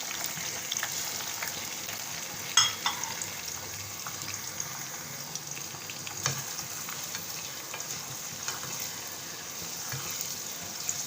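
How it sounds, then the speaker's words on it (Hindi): Meat frying with onion and garlic-ginger paste in a pot for yakhni pulao, a steady close sizzle with occasional stirring clicks and crackles and no talking. "प्याज हो गई, इसमें हम गोश्त शामिल कर देंगे, लहसुन अदरक का पेस्ट शामिल करेंगे, इसकी भुनाई करेंगे।"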